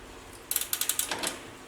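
A hand ratchet works a back bolt loose on a Polaris RZR 800 side-by-side, a quick close series of about eight sharp metallic clicks in a short burst, then quiet.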